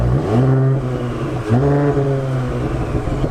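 A car engine revs with whistles fitted to its exhaust, giving a steady droning tone that rises and falls in pitch, loud and close, with no voices.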